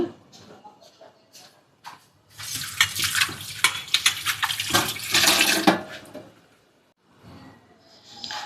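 A plate is washed under a running kitchen tap, with a loud gush of water and clattering for a few seconds in the middle and quieter handling sounds before and after.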